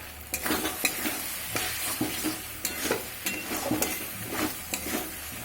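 Dal tadka sautéing in goat fat: a spoon stirs and scrapes the pan in a steady rhythm, each stroke sharp and close, over a continuous sizzle and frying hiss.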